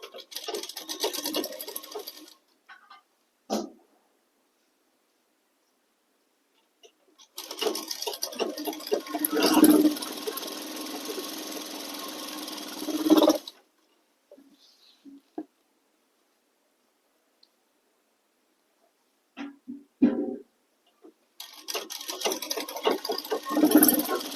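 A sewing machine stitches a ladies' garment in three separate bursts, each a few seconds of fast, steady whirring and needle clatter, with quiet gaps, small handling clicks and fabric shuffling between runs.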